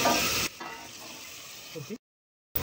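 Hot water poured into chicken cooking in a pan for biryani makes a loud burst of sizzling that drops into a softer, steady bubbling simmer, then cuts to brief silence before the noise returns.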